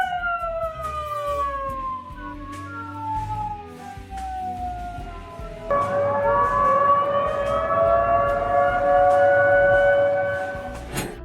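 Air raid sirens wail in Henichesk during incoming strikes, a loud sustained rising and falling howl that jumps louder and fuller halfway through as a second siren joins, with no voices.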